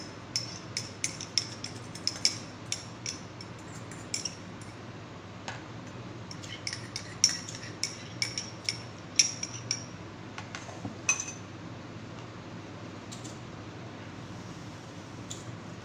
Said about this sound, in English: Now here I am mixing with a fork.